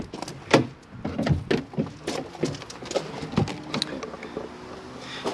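A Ford RS Custom camper van's rear doors are pulled open, giving a run of clunks, latch clicks and rattles, close and fairly quiet, with no talk.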